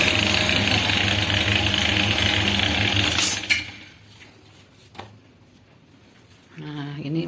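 Motorized dough sheeter rolling wonton wrapper dough, its steady mechanical hum running loud and close before cutting out midway, followed by clanks and quieter handling sounds before the motor starts again.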